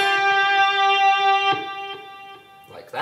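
A single electric guitar note rings out with vibrato and fades, followed by a few softer picked notes, close and clear.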